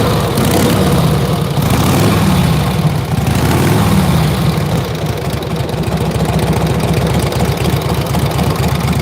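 A rare vintage motorcycle engine idles steadily close by, with a loud, continuous low rumble and rapid even firing pulses throughout, no talk over it.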